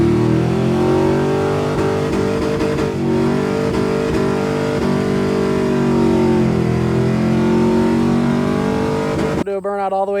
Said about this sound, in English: do a burnout all the way through first and pretty much into second